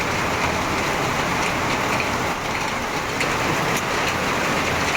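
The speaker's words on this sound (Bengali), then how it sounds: "বৃষ্টি দেখো একটু এত বৃষ্টি হচ্ছে" Heavy rain pours down steadily on a rainy day at a Rath Yatra fair, a dense, constant hiss of drops on surfaces with a faint hint of passing traffic.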